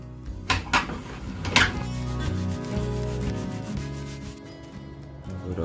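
Sandpaper sanding the wooden handle of a Mora knife, a steady rasping scrub with a few stronger strokes, close and continuous, with no voice.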